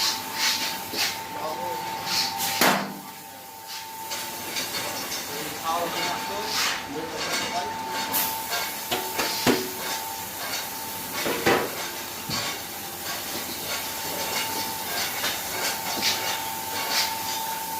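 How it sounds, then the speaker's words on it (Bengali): A puffed rice (muri) machine runs with six pans heating rice and a roaster puffing it, giving a continuous loud hiss and rumble with metallic clatter, while people talk over the noise. "6 কড়াইয়ে চাল গরম হবে এবং রোস্টারে মুড়ি ভাজা হবে।"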